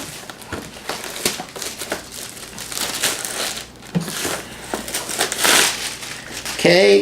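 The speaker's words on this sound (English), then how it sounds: "Take off the plastic." Plastic wrap is crinkled and pulled off a boxed mesh Wi-Fi router system, giving close, irregular crackling and crumpling bursts throughout, with brief speech over parts of it.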